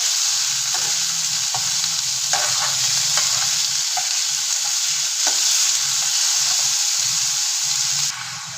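Chicken frying in a pan for shawarma, a steady close sizzle and hiss with a few scraping stirs from a utensil, going on without a break and with no talk.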